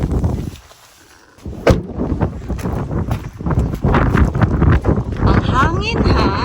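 Cold, strong wind blows outdoors in the UK, buffeting the microphone in rough, loud rumbling gusts after a brief lull, mixed with footsteps while someone talks.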